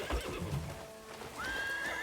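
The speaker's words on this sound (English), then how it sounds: "So we're going to try to break a horse since we're just exploring and stuff." A horse whinnies in a rising, wavering neigh during horse-breaking in Crimson Desert, after a few soft hoof thuds and snorts at the start, fairly close and alone.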